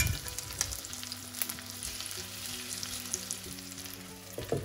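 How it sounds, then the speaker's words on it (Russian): Chicken chops sizzle and crackle in a hot pan, a steady close frying hiss with occasional pops, no talking. "Жарим на другой стороне, накрыв крышкой."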